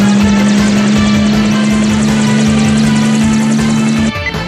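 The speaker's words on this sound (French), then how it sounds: "ils ont pris l'hélico" A helicopter flies in a tense pursuit scene, its dense, steady rotor and engine roar loud and close throughout with a sustained low drone, breaking up abruptly near the end.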